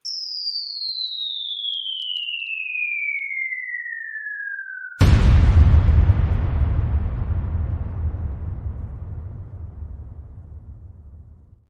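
A cartoon bomb sound effect: a long, steady descending whistle falls for about five seconds, then a sudden loud booming explosion follows and rumbles away slowly over several seconds.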